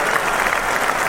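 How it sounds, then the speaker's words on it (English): A studio audience on a talk show breaks into a steady, dense round of applause, the clapping filling the whole brief moment with no pause. "he always gets an astounding round of applause here on the show"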